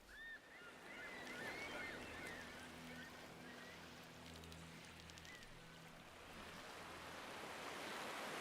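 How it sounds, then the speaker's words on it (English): Waves, seagulls and creaking boats in the fishing simulation game Ships at Sea: a soft, steady sea wash with faint gull calls and low wooden creaks, all fairly quiet. "Got the lovely waves, we've got the seagulls, we've got the creaking of the boats."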